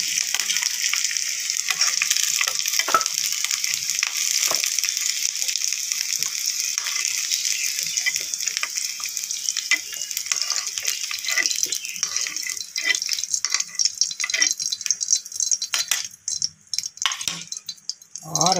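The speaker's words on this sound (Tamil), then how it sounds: "வெங்காயம் பூண்டு எல்லாம் நல்லா வதங்கிட்டு அடுப்பு ஆஃப் பண்ணிடுங்க." Onions and garlic sauté in a pan for Andhra kara chutney, with a steady hiss and sizzle running throughout and occasional scraping stirs growing more uneven toward the end.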